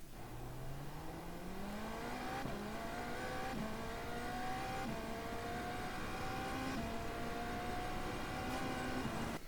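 GTP race car engine in the iRacing video game, pulling hard out of a corner at Long Beach with rising pitch and quick upshifts, a loud, continuous synthetic engine note with no talking.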